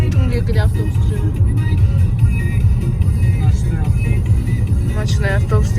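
A night bus pulls away along an Almaty street, its steady low engine rumble carrying through the whole stretch beneath nearby conversation.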